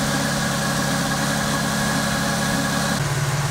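A warmed-up Toyota Supra engine, converted to manual and turbo, idles steadily with a low, even rumble and faint vibration, close by; the pitch of the hum shifts slightly near the end.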